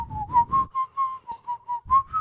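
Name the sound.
man whistling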